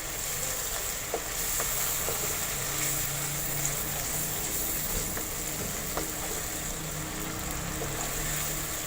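Masala spices fry in a pan for green choliya, a steady low sizzle with a few faint clinks of a spoon stirring now and then, with no talk.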